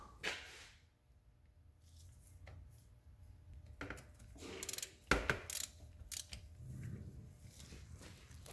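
Ratchet wrench tightening the rear differential plug on a Subaru B9 Tribeca, a few short bursts of ratcheting clicks with brief pauses between, close and fairly quiet.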